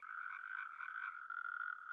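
A frog croaks in a steady, continuous trill, close and fairly loud, running unbroken for the whole two seconds with no voices.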